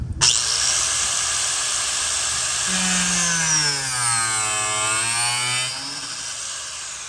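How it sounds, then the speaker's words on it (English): A power tool cuts into the rear bumper of a race car, a loud close whine that starts abruptly and holds for several seconds with a pitch sweeping down and back up before easing off, no voices. "We're cutting my rear bumper for aerodynamic purposes."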